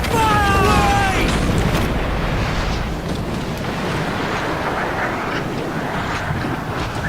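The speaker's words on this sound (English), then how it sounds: "Will I take damage from my own mortars?" Ship mortar fire in Assassin's Creed Black Flag: a loud, dense barrage of booming blasts and rumble filling the whole stretch, with a brief whistling streak near the start and no speech.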